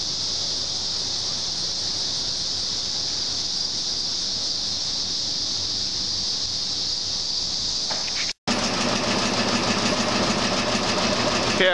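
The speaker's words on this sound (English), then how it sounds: "When we talk about a VFD to control the shake of the gravity table, this is what we're talking about." An Oliver 80 gravity table seed separator shakes under variable frequency drive control, giving a steady, loud mechanical whir and rattle. After a brief dropout the tone shifts to a denser, harsher clatter.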